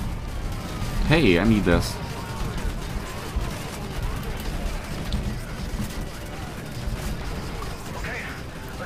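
Gunfire and explosions rumble steadily through a battle in the Call of Duty Modern Warfare 3 campaign, a dense, continuous din with someone talking briefly over it near the start.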